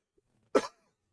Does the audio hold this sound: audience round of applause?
no